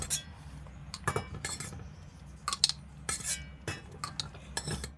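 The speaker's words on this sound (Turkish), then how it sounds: "Sosumuzun altını kapatmadan içerisine sosumu kaynar kaynar dolduracağım." Hot homemade ketchup sauce poured into small sterilized glass jars, with repeated close clinks and taps of glass and utensils in an irregular rhythm, no talking.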